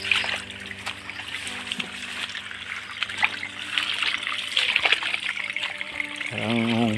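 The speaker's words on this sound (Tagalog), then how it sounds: "Sarap ng laro sa tubig ng ulan." Rainwater trickling and dribbling on a plantation after rain, a soft continuous flow with small splashes, partly under quiet talk.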